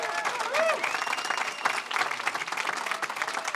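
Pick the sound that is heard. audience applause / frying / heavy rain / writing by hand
audience applause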